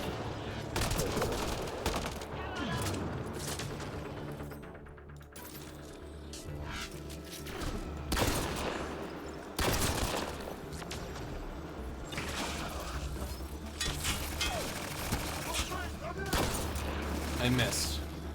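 Gunfire in the video game Mass Effect: Andromeda: repeated bursts of shots and impacts scattered throughout, mixed with other combat sounds and a continuous game soundscape, with some talk.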